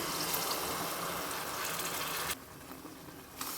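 Tamarind juice is poured into a spicy chili gravy for a Telangana-style korra meenu fish curry, a steady splashing pour that runs for about two seconds and then stops, leaving a quieter room.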